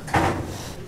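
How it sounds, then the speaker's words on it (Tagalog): A door bangs once in strong sandstorm wind, a single thud followed by a rushing windy wash that fades away. "Lalagabugan ng pinto. Lakas ang hangin"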